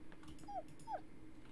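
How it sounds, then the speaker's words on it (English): Two short, high whimpers from a dog in a horror video game, each a brief falling whine spaced about half a second apart, faint and close over a low background hum. "Oh, that's another dog."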